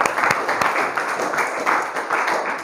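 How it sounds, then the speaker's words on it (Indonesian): Seventh-grade pupils in a junior high school math classroom clap for their classmate Sylvie, a brief burst of close, lively, uneven applause that continues steadily throughout. "Kita berikan tepuk tangan untuk Sylvie."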